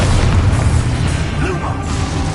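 A spell explodes in the Hogwarts Legacy video game with a loud, sustained rumbling blast that fills the whole moment and slowly eases off.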